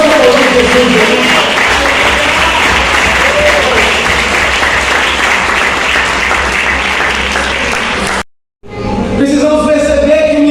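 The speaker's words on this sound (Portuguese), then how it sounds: "Vamos aplaudir Jesus." A church congregation bursts into sustained, loud applause that fills the room evenly for about eight seconds, cuts off abruptly, then resumes with clapping mixed with voices.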